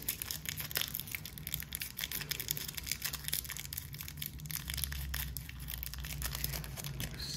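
A plastic bag of screws crinkles and rustles continuously, close by. The sound is quiet and comes in irregular bursts as the bag is handled and set aside.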